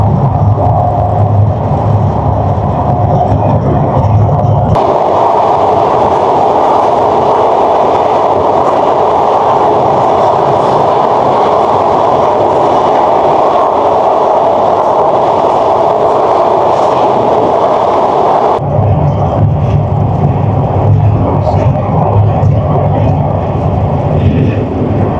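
The Benapole Express rolls onto the Padma Bridge rail line, a loud, steady rumble and roar heard from inside the train that shifts in tone as it crosses onto the bridge and continues for over twenty seconds.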